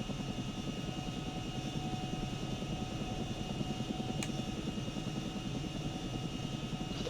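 A Chinook helicopter taxiing on the ground in the ArmA combat game, its steady rotor and engine drone rumbling evenly throughout with a constant churning thump, plus one brief click partway through.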